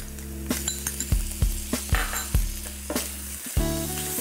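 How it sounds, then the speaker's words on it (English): Brinjal frying in a pan for a South Indian curry, a constant sizzle broken by repeated clinks and knocks of a utensil against the pan, close and clear with no talk. "And we're gonna fry these now until they're a light golden brown."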